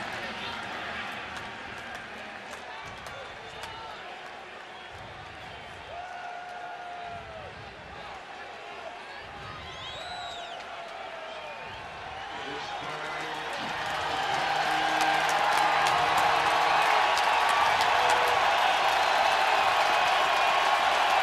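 A Tennessee football crowd on its feet, a broad roar that builds and grows louder over the second half under a steady stream of play-by-play commentary.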